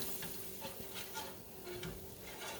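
Sausage gravy being stirred in a pan on a high gas flame, a soft repeated scraping and swishing with a faint sizzle underneath, steady and close with no talk.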